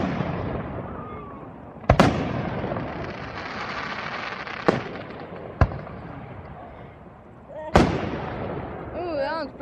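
Fireworks burst at an outdoor church display, several sharp, fairly distant bangs spaced a few seconds apart over a steady crackle and crowd murmur, with people talking nearby.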